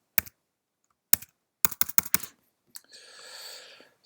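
A password is tapped out on a computer keyboard: a few isolated keystrokes, then a quick burst of clicks, one more tap and a short rattling press, close and quiet with no talk.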